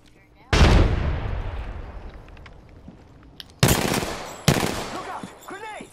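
Grenade blasts and gunfire in the video game Apex Legends: a loud burst opens, decays into a rumbling tail, then two more sharp blasts follow close together, with faint chirping game effects near the end.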